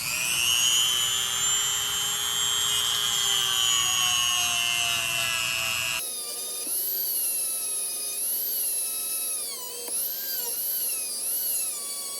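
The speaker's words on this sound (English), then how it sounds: "I think we're gonna have to grind this one out." A power tool grinds out a worn needle bearing, giving a steady, loud high-pitched whine that shifts pitch partway through, then runs on with wavering tones and no talk over it.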